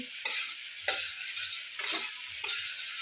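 Soyabean chunks frying in a wok, a bright steady sizzle with four distinct scraping stirs of a spatula, close and clear with no voices.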